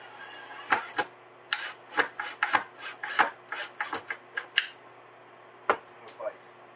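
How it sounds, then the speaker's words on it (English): A Metabo 4-inch grinder fitted with a sanding pad grinds an engine flywheel held on a screw in wood, producing a series of short, sharp rasping bursts in an irregular rhythm, close and fairly loud against a quiet hum. "I'm using a Metabo 4-inch grinder with a sanding pad on it."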